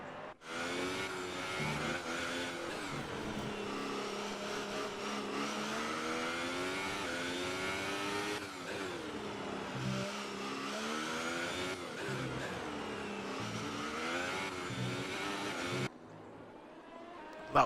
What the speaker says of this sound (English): Raikkonen there on accelerating on the exit of the corner